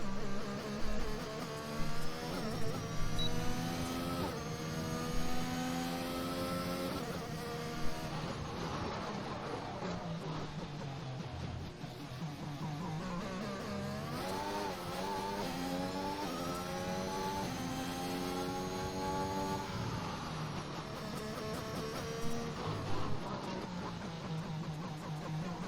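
Racing car engine in a video game, a Williams on an out lap in qualifying, droning loudly and continuously with rising and falling revs and gear changes throughout, no talk over it.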